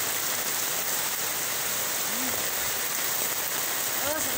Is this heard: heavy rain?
yes